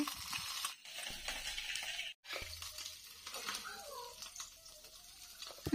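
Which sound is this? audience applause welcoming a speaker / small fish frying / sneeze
small fish frying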